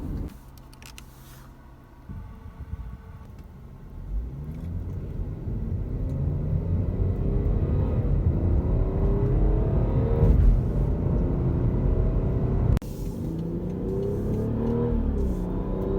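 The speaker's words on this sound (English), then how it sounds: "BMW puts fake exhaust noises into the speakers" A 2016 BMW X5 in sport mode accelerates with synthetic exhaust noise piped through the cabin speakers, building into a loud, rising engine roar with gear changes, heard from inside the car with no talk.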